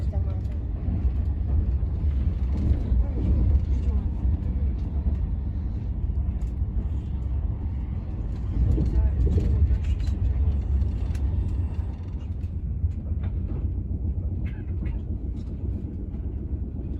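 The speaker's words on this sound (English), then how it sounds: "I'm on my second train here in Switzerland" Steady low rumble of a moving train on a ride through Switzerland, continuous rolling noise with a swell midway, heard from inside the carriage.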